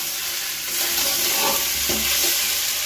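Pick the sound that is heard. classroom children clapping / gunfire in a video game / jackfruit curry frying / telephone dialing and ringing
jackfruit curry frying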